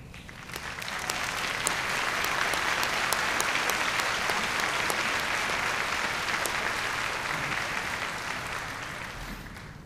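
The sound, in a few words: commencement audience applause for Limestone faculty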